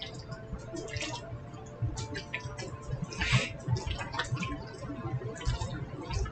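Potato pieces are tossed and stirred through sauce in a bowl, giving soft wet squishes, drips and light clicks against the bowl in an irregular rhythm at close range.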